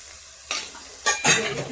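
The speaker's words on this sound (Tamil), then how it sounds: "காஷ்மீர் மிளகாத்தூள் இது எண்ணெயில் வதக்கி ஒரு நிமிஷம் போதும்." Kashmiri chilli powder sautéing briefly in a little oil, faint background hiss broken by three quick stirring scrapes of a spoon against the pan, close and short, without speech.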